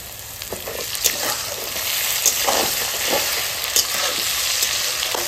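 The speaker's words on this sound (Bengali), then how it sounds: "লবণ না দিলে তাড়াতাড়ি পেঁয়াজটা ভাজা হচ্ছে না" Onion and tomato fry in a pan with a steady broadband sizzle, punctuated by several sharp stirring clinks and scrapes; close, fairly loud, no voices.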